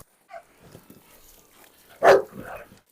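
Farm dogs at feeding time: faint yips and whimpers first, then one loud, close bark bursts out and trails off into softer noises.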